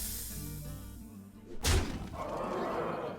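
In the Hearthstone video game, a Freezing Trap card goes off with a sharp slamming burst and a shattering crack, followed by a lingering glittery hiss. It comes after a quieter stretch.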